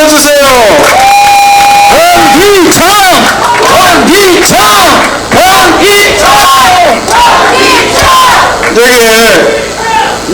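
At an outdoor campaign rally in Andong for a gubernatorial candidate, a large crowd roars and chants over loud, rhythmic amplified voices, with shouted cries rising and falling continuously throughout.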